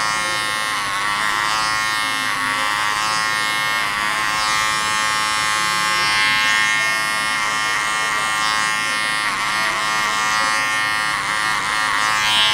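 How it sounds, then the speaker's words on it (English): Electric wall hair clippers buzz steadily and loudly through a clipper-over-comb cut at a barbershop, a continuous motor whine with slight pulsing as the blades work through the hair. "I'm gonna start by just clipper over combing it"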